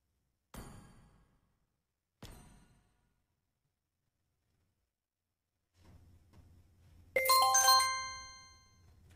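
A livestream donation notification chime rings out as a bright, rising melodic ding-dong sequence near the end, preceded by two short thuds and a soft low hum, with no talk.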